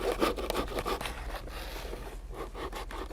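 Sandpaper rubbing along the edges of a leather steampunk belt bag, a steady close scratchy scraping with repeated back-and-forth strokes and no voices.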